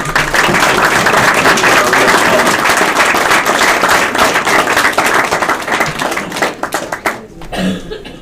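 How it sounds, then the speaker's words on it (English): An audience at a racing hall of fame ceremony gives a round of applause, with sustained, dense clapping that stays loud for about six seconds, then breaks into scattered claps and fades out. "Let's give him a nice round of applause."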